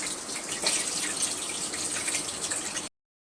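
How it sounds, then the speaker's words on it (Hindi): Onions and ajwain sizzling in hot oil in a pan on an induction cooktop, a steady, close hiss of frying that continues without a break and then stops abruptly. "और ये मेरी प्याज है, ये प्याज डालूंगी भूनने के लिए।"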